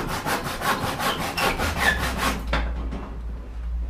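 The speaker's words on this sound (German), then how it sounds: "das ist eine gute Säge. Der geht ratzfatz." A hand saw cuts through a wooden beam in quick, even back-and-forth strokes, about ten rasping passes, close and loud, before the blade breaks through and stops, leaving a low hum.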